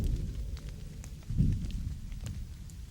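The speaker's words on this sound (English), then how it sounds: "The rain is starting in earnest" Rain falling steadily in lonely open backcountry of the Owyhee region, a soft continuous hiss and patter with a slightly heavier swell midway, heard alone at moderate distance.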